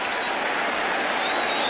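Roaring crowd noise inside the RCA Dome during an NFL football game between the Bengals and Colts, a loud, continuous wash of cheering with no break.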